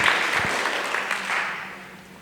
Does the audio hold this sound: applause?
yes